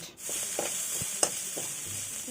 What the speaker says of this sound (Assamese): এতিয়া কেৰাহীত বাছি যোৱা ঘিখিনিত মই দিম জিৰা আৰু জিৰাখিনি অকণমান ভালদৰে লৰাই ভাজিম